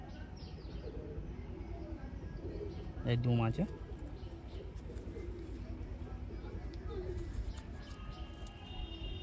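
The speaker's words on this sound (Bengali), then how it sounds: "এই যে মাদা পায়রা এটা।" Pigeons coo close by in a loft, with one loud, throaty coo burst standing out amid softer cooing and chirps, while someone talks over them.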